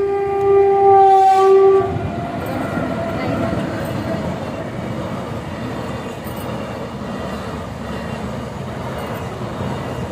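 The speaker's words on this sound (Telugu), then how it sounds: "ట్రైన్ వెళ్తుంది ఫ్రెండ్స్ చూడండి" A train horn blares briefly nearby, then a loud, steady rumble of rail cars passing continues throughout.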